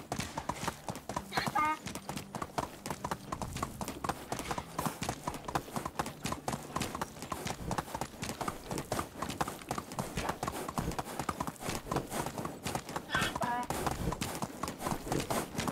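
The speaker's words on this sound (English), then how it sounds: "Relax, donkey." Donkey hooves clop in a steady, even rhythm on a video game farm, close and continuous throughout, with a faint whinny-like call briefly near the start and again near the end.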